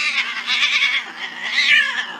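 A cat gives a drawn-out, wavering meow that rises and falls, followed by a second yowl, loud and close with no talking.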